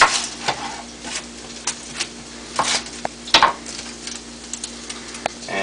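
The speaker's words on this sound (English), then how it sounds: "while those saute, I'll cut the onion" Knife chopping an onion on a board, sharp irregular cuts close by, while potatoes sauté in a pan beneath with a soft continuous sizzle and occasional clinks.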